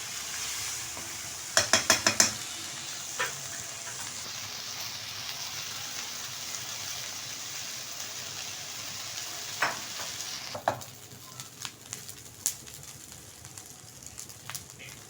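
Boiled rice is stir-fried in a pan, giving a steady soft sizzle with scraping and stirring strokes. A quick cluster of sharp clatters comes early, and scattered ticks and clinks follow.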